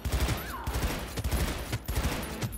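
Rapid bursts of gunfire in the video game Cyberpunk 2077, loud, close and repeated, with several clusters of sharp shots and a brief whooshing sweep between them.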